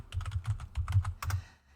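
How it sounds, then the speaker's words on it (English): Brisk, noisy typing on a computer keyboard, a rapid run of close, clattering keystrokes in uneven bursts that stops cleanly near the end, with no talking. "Yes, that's my keyboard."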